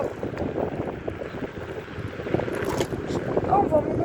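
Wind buffets a microphone outdoors during a ride, producing steady low rumbling gusts and bursts of noise, with a voice speaking in between.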